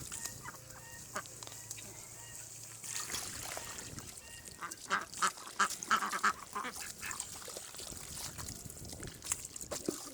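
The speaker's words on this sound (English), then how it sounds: "And that's a female duck." A backyard flock of mostly female ducks with one drake, kept near chickens, quacking in a busy cluster of calls that builds midway, with clucking mixed in and steady yard ambience.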